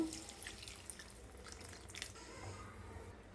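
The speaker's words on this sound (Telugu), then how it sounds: "ఇప్పుడు మనం గ్రేవీకి తగినంత వాటర్ వేసుకుందాము" Water trickles and drips steadily into a pan of kurma curry gravy, a soft continuous liquid sound with a few brighter splashes, fairly close and unaccompanied by voices.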